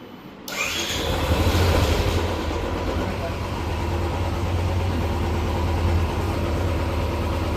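A BS6 two-wheeler engine is started and settles into a steady idle, running continuously and fairly loud up close, with some voices faintly audible in the background.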